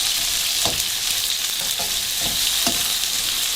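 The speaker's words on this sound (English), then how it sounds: "Give that a good stir." Vegetables for fried brown rice sizzle steadily in hot oil in a pan, with a few distinct scraping stirs of a utensil cutting through the constant frying hiss.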